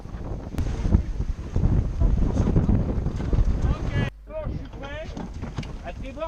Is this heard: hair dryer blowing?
no